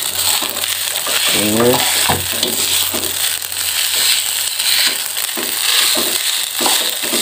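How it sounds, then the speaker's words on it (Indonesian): Fried rice (nasi goreng) being stirred and flipped in a pan over a medium-low flame, with a steady sizzle and scraping that runs throughout, loud and close, while a voice speaks briefly over it. "Aduk terus, balik-balik,"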